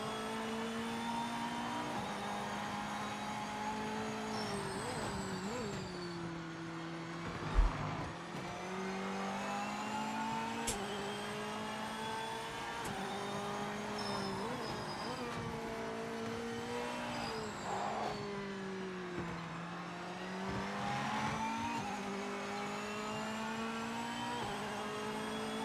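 Race car engine in Project Motor Racing on PS5, droning steadily and rising and falling in pitch through gear changes and revs across a long stretch, with one sharp thump partway through and no talking.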